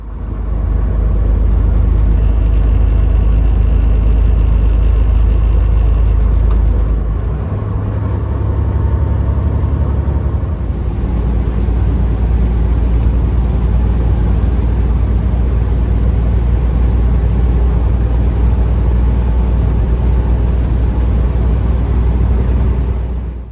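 A car cruising on the road toward the interstate after leaving Watkins Glen, a steady loud low rumble of engine and road noise with heavy vehicles passing nearby, continuous throughout with no talking.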